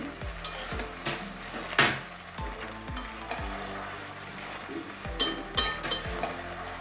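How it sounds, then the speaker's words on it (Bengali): Malabar spinach being sautéed with katla fish head in a pan, a soft steady sizzle broken by repeated metallic scrapes and clinks of a spatula stirring against the pan, close and without talk. "এবারে ভালো করে কষিয়ে নেব এবং শাকটা মিশিয়ে দিয়েছি"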